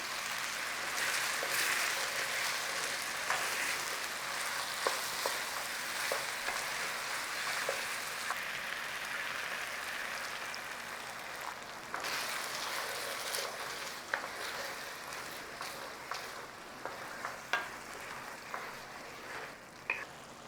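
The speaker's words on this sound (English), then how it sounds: "add the soup mixture a ladle at a time until it's absorbed" Chicken risotto rice simmering in a pan as soup stock is ladled in, giving a steady close sizzle and bubbling hiss with occasional soft clinks and stirring scrapes throughout.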